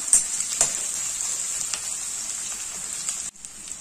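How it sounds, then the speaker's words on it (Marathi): Onion sizzling steadily in a pan with turmeric added, a continuous crackly hiss with a few soft scraping stirs, fairly quiet and without any talk. "हा कांदा पण छान लालसर शिजू द्यायचा."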